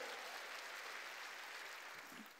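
Applause from a church congregation during a Sunday worship service, a steady broadband wash of many hands clapping together, fairly loud and continuous before tapering slightly at the end.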